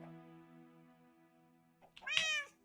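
Excited house cat meows over being offered salmon: a long, steady, harmonic meow followed after a pause by a sharper, louder rising meow, close by.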